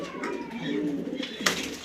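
Pigeons of a fancy breeding flock, including red checker and blue racer birds kept for sale, coo in soft low rolling calls from close by, with a couple of sharper bursts near the end.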